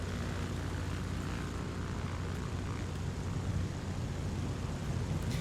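Steady droning propeller engine hum of the Spartan Executive aircraft in Microsoft Flight Simulator 2024, low and even, like a small plane cruising at constant power, with no voices.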